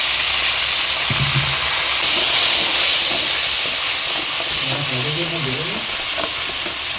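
Spice paste of salt, turmeric and Kashmiri chili powder with a little water fries in oil in a pan for a hilsa and eggplant broth, giving a steady loud sizzling hiss throughout with faint clinks of stirring.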